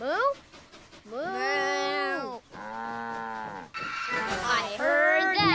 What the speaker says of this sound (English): Do tractors moo? No. But cows do!